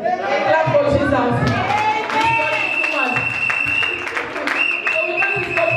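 A church congregation at a Sunday service claps along under loud speech and singing, the claps brief and scattered amid steady crowd noise.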